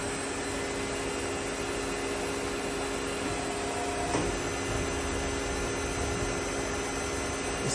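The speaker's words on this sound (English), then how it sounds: "Homing the machine." A Willemin-Macodel 408MT CNC machine homes itself with a steady, close mechanical whir and electrical hum, steady tones running throughout and one brief click midway.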